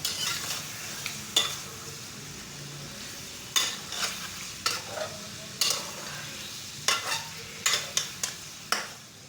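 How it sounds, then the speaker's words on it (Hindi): Meat fries in ghee in a karahi for Peshawari charsi karahi, a constant close sizzle broken by repeated sharp metal spatula scrapes and stirs against the pan. "अच्छी तरह से भून लिया है घी में"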